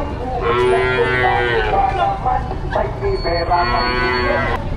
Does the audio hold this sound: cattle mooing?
yes